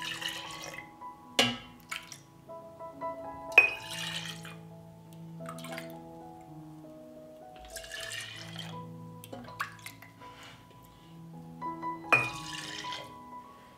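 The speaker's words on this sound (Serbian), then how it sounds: "U svaku teglu sipat ću po kutlaču mleka." Milk is ladled into glass jars with soft pours and drips, broken by a few sharp clinks of the ladle against glass, close and quiet.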